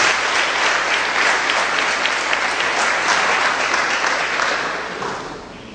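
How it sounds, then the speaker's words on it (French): Loud, sustained applause from an audience at a school opening ceremony carries on for several seconds and tapers off slightly near the end. "nous applaudissons."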